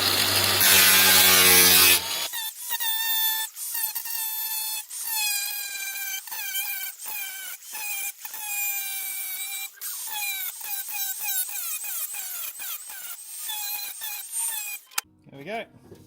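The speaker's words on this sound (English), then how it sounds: "grab the DeWalt grinder." A DeWalt angle grinder cuts through material for a snorkel fitting, starting with a loud burst, then a sustained high whining cut that wavers and dips in short strokes, close and loud, ending in a brief clatter.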